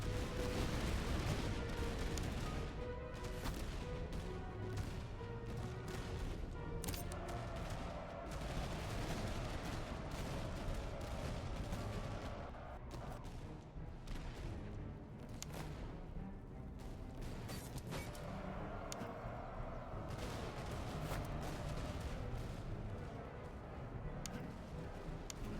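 Massed musket volleys and scattered shots crackle continuously in the strategy game Master of Command, a dense, loud barrage of overlapping gunfire with sharp individual reports throughout.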